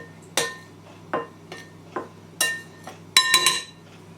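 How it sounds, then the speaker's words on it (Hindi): A spoon clinks against a bowl while mixing dry flour and baking powder for a white forest cake: a series of sharp, close metallic taps in an irregular rhythm, ending in a quick cluster of rapid clinks. "एक स्पून ले लें और ड्राई चीज़ों को जो है मिक्स कर लें ताकि बेकिंग पाउडर अच्छे से मैदे में मिक्सअप हो जाए।"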